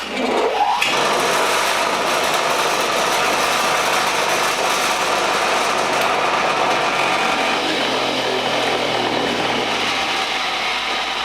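A bench grinder on a bait knife sharpening setup runs steadily and slightly out of balance, giving a loud continuous whirring drone that starts up at the beginning and holds without pause.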